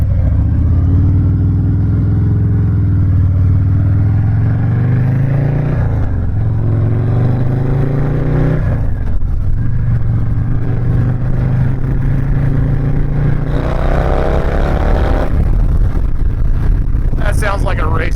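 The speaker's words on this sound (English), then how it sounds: "Sounds like a race motorcycle." Custom Stage III Harley-Davidson Sport Glide engine while riding, a loud, deep, continuous rumble that rises and falls in pitch as the rider accelerates and shifts, with wind noise and a brief higher whine at the end.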